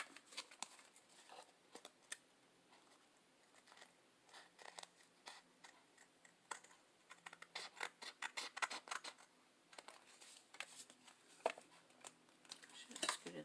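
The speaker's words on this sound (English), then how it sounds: "And then we can just cut around it." Small scissors trim around a piece of glued Halloween scrapbook paper, a quiet stream of crisp snips and paper rustles in short irregular bursts, heard close up.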